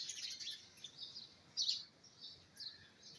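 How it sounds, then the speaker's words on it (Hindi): Small birds chirp and tweet on a fresh morning, a busy scatter of thin high calls with one brighter burst near the middle, moderately faint and unaccompanied by voices. "कितना चहचहा रही हैं।"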